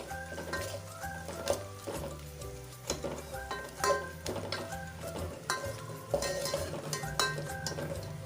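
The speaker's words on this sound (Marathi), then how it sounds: "हा तेलात व्यवस्थित भाजायचा म्हणजे आपला जो रस्सा आहे त्याला कट छान येणार." Ground masala roasting in hot oil in a pan, stirred continuously: a soft steady sizzle under repeated clanking spoon scrapes against the metal, close by and moderately loud, with no talking.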